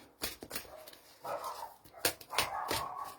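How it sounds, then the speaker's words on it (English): Dogs barking in short, sharp bursts with a whimper or two between, fairly close, a few loud woofs over about three seconds. "I apologise for the dogs barking as well"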